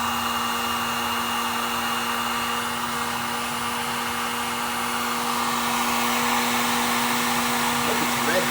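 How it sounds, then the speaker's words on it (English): A torch or heat gun roars steadily and close while heating a seized bolt on a Jeep JK Rubicon steering box, a constant loud hiss with no voices. "So heating up the bolt, that'll help loosen things up a bit."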